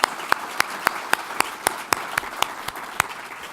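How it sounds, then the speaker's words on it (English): Audience applauding panelists at an environmental program on flooding, a sparse, steady run of single distinct claps at moderate distance with no voices. "A big round of applause for our panelists."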